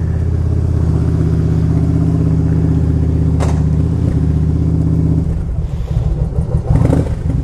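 A Yamaha V Star 1100 motorcycle engine runs close and loud with a steady, throbbing idle, then shifts to a rougher, uneven rumble toward the end; no voices.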